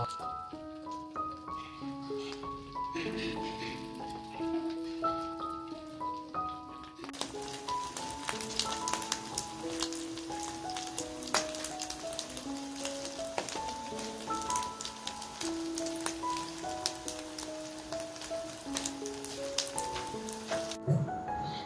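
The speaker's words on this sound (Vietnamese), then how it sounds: "Mình bắt đầu mình tẩm bột chiên xù là mình rán để cho cái nem của mình được ngon." Breaded fermented pork rolls (nem chua) frying in hot oil give off a steady crackling sizzle that runs under a tuneful background melody, growing denser after the first few seconds.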